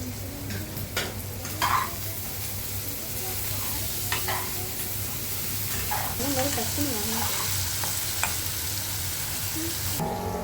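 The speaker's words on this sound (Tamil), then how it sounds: "இப்போ நம்ம வெங்காயத்தோட உப்பு போட்டால் சீக்கிரமாக வதங்கிடும்" Onions with salt sizzle steadily while sautéing in a pan, with repeated scraping and clinking as a spoon stirs them, continuous and close throughout.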